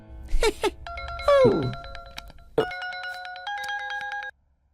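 A telephone ringtone plays during a phone call in an Indian action film, a sustained melodic electronic chime of several stepped tones lasting about three seconds, preceded by brief vocal sounds and ending abruptly.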